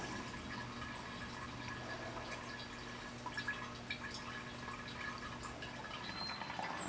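Water runs steadily through the coolant lines of a Do-All band saw being flushed clean, a continuous low wash and trickle with a few faint drips, fairly quiet and unbroken.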